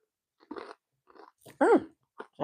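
Crunchy food chewed close to the mouth in a few short, sharp crunching bursts separated by brief pauses, with no talking.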